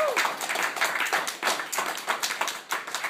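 An audience claps for a musician at a singer-songwriter show, with dense, steady applause carrying a few louder bursts of individual clapping throughout.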